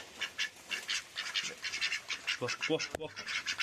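Ducks quack repeatedly in a rapid, near and lively series, with some overlapping calls, in an outdoor poultry enclosure where hens are also kept.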